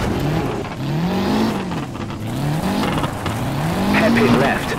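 Rally car engine revving hard through a left hairpin with handbrake slides in the WRC Rally video game, Renault 5 GT Turbo on the Rally of Greece stage; rising and falling engine pitch with tire scrub, loud and continuous, with a co-driver's pace notes spoken over it.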